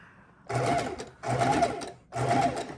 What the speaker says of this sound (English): You can use any sewing machine, does not matter.